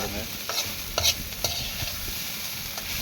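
Okra stir-fry sizzles steadily in a pan while a spatula scrapes and taps the metal in several short strokes, close and clear.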